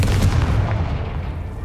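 A Confringo blasting spell goes off in the Hogwarts Legacy video game, one loud booming blast that rumbles and fades over a second or so.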